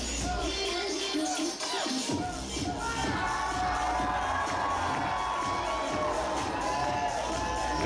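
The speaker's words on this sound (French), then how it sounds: "La foule l'aime bien" A wrestling crowd at an NCW Christmas show cheers and whoops, a dense roar of many voices that swells and holds steady throughout.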